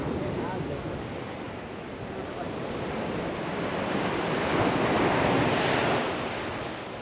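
Cold sea surf pounds the shore at Praia de Galapos with a broad, continuous roar that swells to a peak near the end and eases off, with wind buffeting the microphone.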